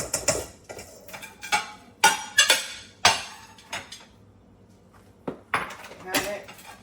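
Brown rice spooned into a serving bowl by hand, a string of light clinks and scrapes of utensil against dish in irregular bursts, close by, with a voice speaking at moments.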